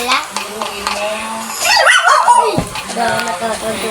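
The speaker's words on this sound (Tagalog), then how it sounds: "maingay ang aso" A dog barks and yips excitedly nearby in a short burst, with people talking and background noise around it.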